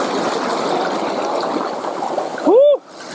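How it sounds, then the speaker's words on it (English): A mountain creek flows steadily near a hiking trail with waterfalls nearby, a broad continuous wash of rushing water, with a brief loud whistle-like sweep near the end. "There's 3 waterfalls right here."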